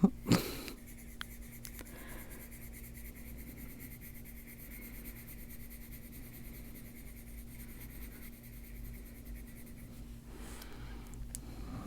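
Pencil shading on a coloring book page: a steady, soft scratchy rubbing that continues throughout, close and quiet, with a sharper stroke at the start and no talk.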